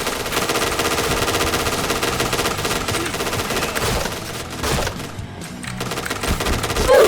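Sustained rapid video game gunfire, dense automatic bursts for several seconds, a short lull, then shooting resumes loudly near the end.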